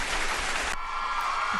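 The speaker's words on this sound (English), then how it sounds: "Give me some claps for Jen." Audience applause for comedian Jen Thomas at a live show, a loud burst of clapping that cuts off abruptly partway through, leaving a faint hum.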